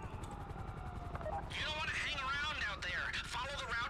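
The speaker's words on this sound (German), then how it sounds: "Wir hätten den Helikopter zuerst zerstören müssen." A helicopter in the video game GTA 5 Online, during a Pacific Standard bank heist, gives a low, steady rhythmic rotor thumping that runs underneath people talking throughout.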